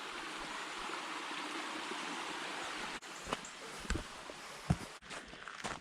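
The Craig River in County Clare, Ireland rushes with a steady, fairly faint wash of flowing water, first on its own, then beneath scattered footsteps and knocks from someone walking close by.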